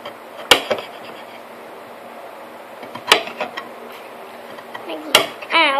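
A knife chops a carrot on the underside of a plate, with three sharp, separate clacks spaced a few seconds apart and smaller taps between them, while someone talks.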